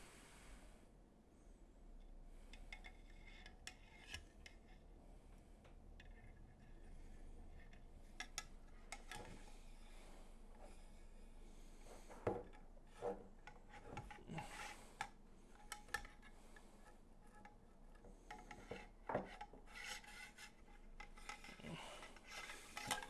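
Cleaning rod with solvent-soaked patch scraping back and forth inside the barrel of a CZ Bren 2 Ms carbine, a steady close rasping and rubbing with sharper metallic scrapes and knocks throughout.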